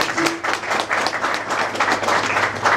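Applause from guests at a ceremony honouring a restaurant, a steady dense wash of many hands clapping close by, sustained throughout with no talk over it.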